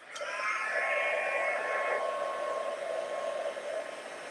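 A heat tool blows steadily up close to heat-set watercolour paint, giving a continuous airy whir with a faint whine that holds for the whole stretch.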